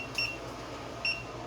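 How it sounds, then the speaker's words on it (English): A kitchen timer being set gives two short, high electronic beeps close by, spaced about a second apart, against a quiet room hum. "I just turned that timer on"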